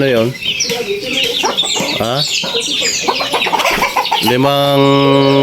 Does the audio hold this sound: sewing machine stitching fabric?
no